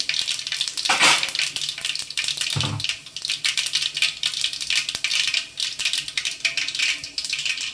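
Mustard and fenugreek seeds crackle and sizzle in hot oil for a homestyle fish curry, a steady bright frying hiss broken by a couple of louder bursts of spattering near the start.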